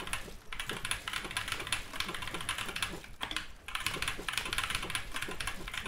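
A gaming keyboard under review is typed on rapidly, giving a dense, continuous clatter of crisp key presses close to the listener, with brief pauses between bursts.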